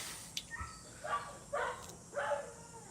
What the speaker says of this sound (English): That's some other doggy.